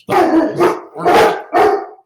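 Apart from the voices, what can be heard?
dogs barking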